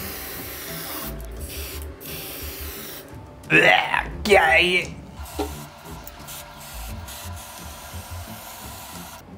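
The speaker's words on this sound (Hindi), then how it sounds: "कोई बात नहीं, अपने पास और भी काफ़ी सारे स्प्रे हैं," Spray paint cans hissing onto a wall while a gaming room is decorated, two bright bursts a few seconds long in the middle, with a voice speaking briefly nearby.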